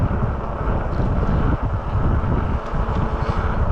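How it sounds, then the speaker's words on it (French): Strong wind blowing during an outdoor ride under threatening weather, a steady loud roar buffeting close to the microphone with gusty surges throughout, no talking. "il y a beaucoup de vent, enfin il y a pas mal de vent"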